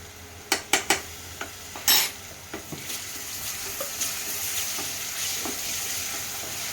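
Ginger-garlic paste hits softened onions in a pan for a mutton gravy, hissing steadily while a spoon scrapes and clinks against the pot in a few sharp knocks early on, then the sizzle settles into a constant background.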